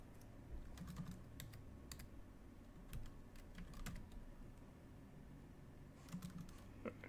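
A username is typed on a computer keyboard, soft irregular key clicks in short clusters, faint and close, with a low background hum and no talk.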